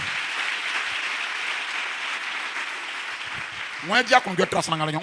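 A church congregation applauds and cheers the Lord in a steady, dense roar of claps for about four seconds before a voice begins speaking over the fading crowd.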